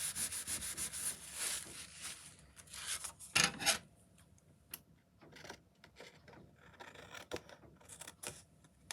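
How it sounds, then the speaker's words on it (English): Soft rubbing and scraping strokes as sticky residue is wiped off before cutting, a rapid run of close, faint rubs followed by scattered quieter swipes and small taps. "I'll wipe that sticky off before I cut it"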